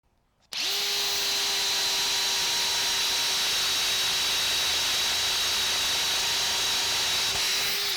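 A RIDGID subcompact 18V cordless drill bores into roughly quarter-inch-thick steel, starting abruptly and running as a steady, loud, high-pitched whine with a constant motor tone for about seven seconds before cutting off.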